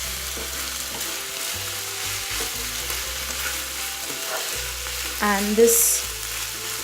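A mushroom and vegetable stir fry sizzles loudly in a pan while a spatula stirs and scrapes through it. Near the end a brief voice speaks over the frying.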